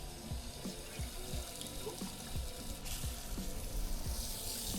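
Water from a tap runs steadily as hands and a salmon container are rinsed, with a close gushing flow and repeated low splashes and thumps in a sink.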